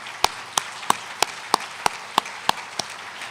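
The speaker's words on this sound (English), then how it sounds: "Please join me for another round of applause for an incredible lineup of speakers." Sparse, evenly spaced claps, about ten sharp slaps at a slow steady pace, sound faintly in a quiet room at an economic development event on Pennsylvania energy communities.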